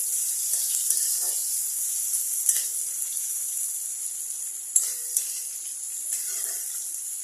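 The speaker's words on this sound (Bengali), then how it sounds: "পেঁয়াজটা আমি একটু লাল করে ভেজে নেব" Onions frying in a pan until browned, giving a steady, fairly faint high hiss with a few brief clinks and stirring knocks scattered through it.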